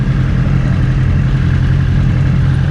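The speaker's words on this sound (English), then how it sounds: "And a Corvette." A Corvette engine runs steadily at close range, a loud continuous low rumble with a faint mechanical clatter and no voices over it.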